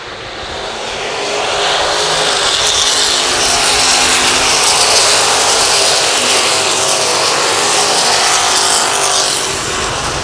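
Race cars roar around the oval at Lakeside Speedway, a broad, loud engine wash that swells over a couple of seconds and then holds steady as the pack laps. No voices are heard.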